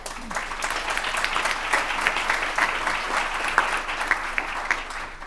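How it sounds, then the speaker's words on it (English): A panel-discussion audience claps for a panelist being introduced, a steady crowd applause with a few sharper individual claps standing out. "They're setting a big precedent with that round of applause"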